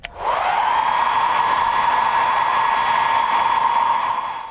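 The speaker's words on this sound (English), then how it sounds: "Blow dryer." A blow dryer starts with a click and runs steadily, a loud, even airy whoosh with a constant motor whine held unbroken until it stops.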